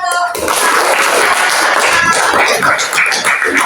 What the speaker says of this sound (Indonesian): kita tepuk tangan dulu untuk nomor 1